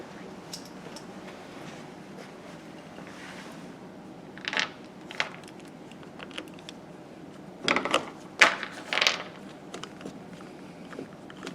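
Screws are driven into a Yaskawa SGMG-20V-2AB servo motor during feedback installation, giving soft ratcheting and clicking bursts from a hand driver, some louder tightening clicks near the end, against quiet room tone.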